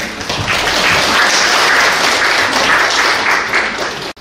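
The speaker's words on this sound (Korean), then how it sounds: "박수로 환영해 주시기 바랍니다" Dense, loud audience applause fills a Korean public policy forum hall, steady and sustained for several seconds before cutting off abruptly, with no voices over it.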